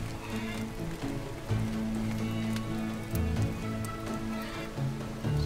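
Steady rain in the video game Farmer's Dynasty patters on a surface, a continuous hiss with low droning tones underneath and no voices.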